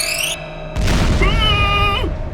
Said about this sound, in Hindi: उसने धमाके की आवाज सुनी